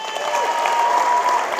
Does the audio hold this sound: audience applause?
yes